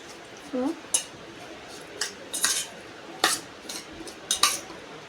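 Drumstick pods being tossed into a spicy masala batter, giving a few sharp clinks of a utensil against a bowl at irregular intervals, close by, with soft wet mixing in between.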